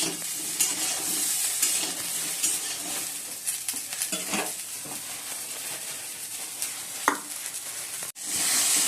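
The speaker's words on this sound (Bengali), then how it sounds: "ফুলকপিটা ভেজে নিচ্ছি" Cauliflower frying in oil in a pan after potatoes, a continuous loud close sizzle and hiss with occasional stirring scrapes and light clinks, no talking.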